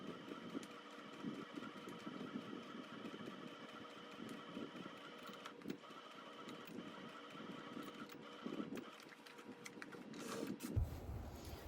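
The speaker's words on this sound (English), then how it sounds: "I'm just gonna go from the top, and it's gonna angle out a little, but you just wanna make sure when you get up here, you backstitch a few times" A sewing machine stitches a garden bucket caddy with backstitching, a faint steady mechanical whir running throughout in near-continuous bursts with brief pauses.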